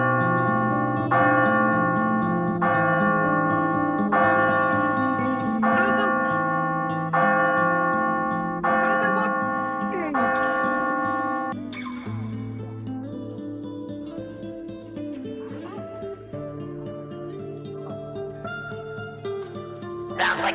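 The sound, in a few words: bell being rung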